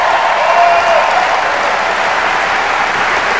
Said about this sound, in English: Give Jim Webb a big round of applause.